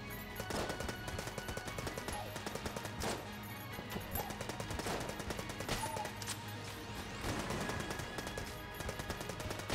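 Rapid machine pistol fire in the Enter the Gungeon video game, dense continuous bursts of small sharp shots with brief pauses, loud and steady over busy game effects.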